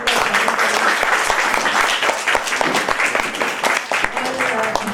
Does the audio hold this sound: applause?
yes